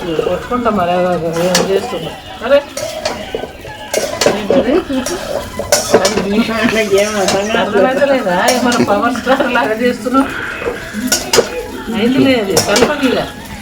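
Aloo egg rice is stirred in a pan, with repeated metallic scrapes and clinks of a spoon against the pan. A person talks over the clatter throughout.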